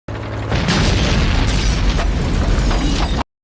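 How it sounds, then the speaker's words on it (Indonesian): A loud, sustained explosion from a bazooka hitting an enemy Panzer tank in the war film Saving Private Ryan, a heavy roaring blast with debris and rumble filling the whole stretch before cutting off abruptly. "Mike membawa bazooka dan kemudian berhasil meledakkan satu panzer musuh"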